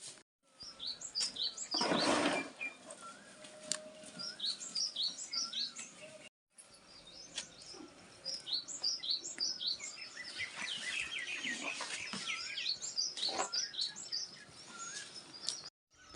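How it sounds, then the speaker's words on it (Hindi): Myna birds chirp in a tree at a home in the UK, a busy flock of repeated bright calls and whistles at moderate distance, with a brief break midway. "और इस पेड़ में मैना सिंटुलिया वो अपनी मीटिंग करने लग गए।"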